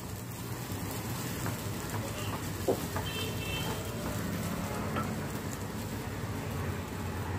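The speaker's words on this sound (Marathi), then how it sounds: "आपलं बटर आता मेल्ट झालेलं आहे आणि त्यामध्ये आपण स्वीटकॉर्नचे दाणे टाकून घेऊया आणि ते आपल्याला परतवून घ्यायचे आहेत थोडेसे।" Sweet corn kernels sauté in melted butter with a soft, steady sizzling crackle that runs evenly throughout at moderate volume.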